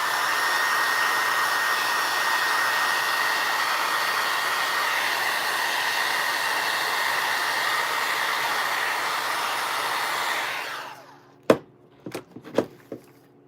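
A hair dryer blows steadily on freshly painted small Easter craft signs, a loud continuous whoosh that cuts off near the end, followed by a few sharp knocks and clatters.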